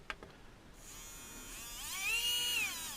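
The small electric motor of a Mini-Z 4x4 Suzuki Jimny RC car, running after a board repair: after a brief click it starts a quiet, high buzzing whine that rises in pitch and then holds steady, with no voices.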